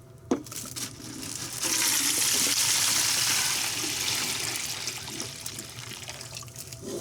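Brine liquid pours steadily into a pot with a turkey breast for a few seconds, swelling then tapering off, close by with small clinks around it and no talking.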